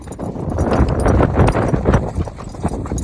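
A mare's hooves clip-clop steadily, close and loud, as she is walked along a rough track on the way to have her hooves trimmed.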